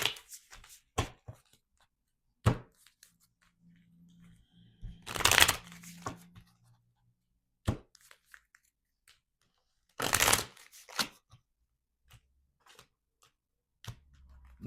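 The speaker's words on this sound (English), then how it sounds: "So now let's take out your numerology card." Numerology cards being shuffled and handled close by, with two longer riffling bursts among scattered soft taps and card flicks, quiet and intermittent with silent gaps.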